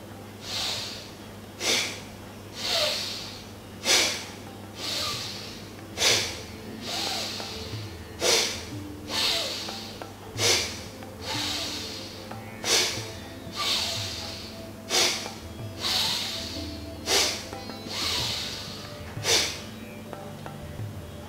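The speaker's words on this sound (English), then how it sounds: "we will do Bhastrika, where we are using the chest, quick, rapid, forceful, deep breathing from the chest" Bhastrika pranayama bellows breathing: about ten rapid, forceful chest breaths, each a sharp, loud, close rushing exhale and inhale, evenly spaced about two seconds apart, with no talking.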